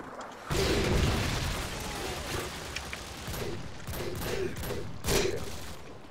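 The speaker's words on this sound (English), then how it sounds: "Predator missile inbound." Predator missile strikes in the video game Modern Warfare 2, a sustained roar of heavy explosions and rumbling fire with several loud booms rising out of the din.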